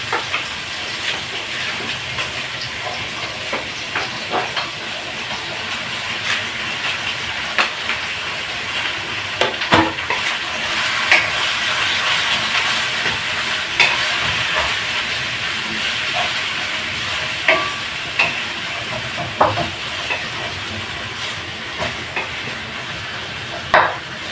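Chicken pieces going into a hot pan for Filipino pork and chicken adobo, giving a steady, loud broadband sizzle and hiss throughout with occasional crackling pops, no talking.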